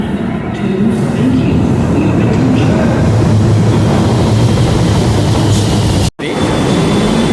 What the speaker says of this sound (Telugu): ఇదే అండి మన ట్రైను. ఇదే మనని ఎర్రకోట వరకు తీసుకెళ్తుంది.